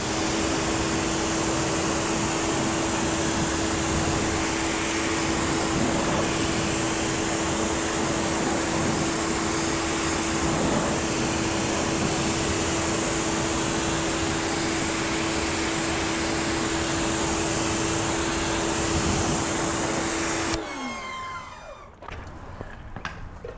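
Water spraying from a hose rinses tyre cleaner off a car tyre, a loud, steady close-up hiss that runs without a break for about twenty seconds before cutting off abruptly.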